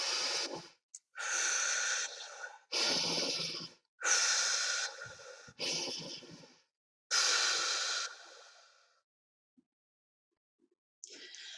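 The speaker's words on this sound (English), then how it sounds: "I better practice my deep breathing technique." Slow, deep breaths during a children's mindfulness breathing exercise, about six long, loud, airy inhales and exhales spaced a second apart, close to the mic, then a pause before another breath starts.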